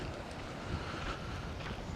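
Strong, low, rumbling wind buffets the microphone continuously in Costa Teguise, with a faint wash of water or waves underneath.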